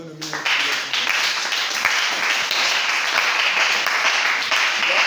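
A church congregation claps together to acclaim the Lord, a dense, steady wash of applause that starts abruptly and carries on evenly throughout.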